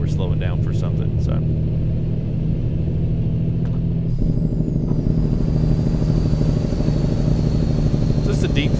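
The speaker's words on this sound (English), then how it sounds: "we'll run the Jake break. We'll run it some." A cattle-hauling semi truck on a Wyoming highway runs its Jake brake, giving a deep, throaty, steady engine rumble that holds loud and unbroken, its pitch shifting slightly partway through.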